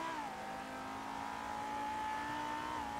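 A video game car engine holds a steady, continuous rev, droning close and loud at a near-constant pitch for the whole stretch with a slight dip at the start and end.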